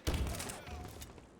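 A burst of gunfire in the Halo video game during a ball-carrying multiplayer match, a short loud volley with heavy low thumps that fades away over about a second.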